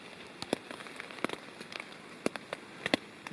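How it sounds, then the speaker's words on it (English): Rainwater drips from trees onto a campsite in Nantahala National Forest after an overnight storm. Scattered soft taps and patters land irregularly over a quiet, faintly hissing background. "Rain is still dripping off the trees"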